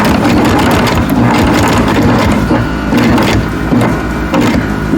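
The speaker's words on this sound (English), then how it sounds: "We're going to take one stitch over in this part of the binding" A sewing machine running steadily as it stitches through quilt binding, a dense continuous mechanical whir close by with one short stitch forward and back, no talking.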